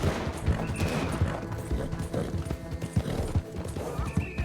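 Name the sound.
horse galloping in a video game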